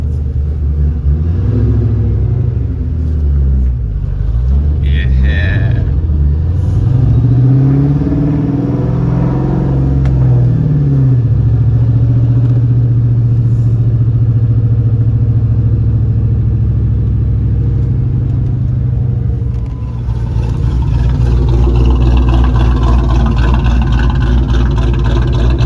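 A cammed 2V Mustang GT V8 idles and rolls over parking-lot speed bumps, its loud, lumpy exhaust rumble steady throughout, dipping briefly before revving up louder near the end.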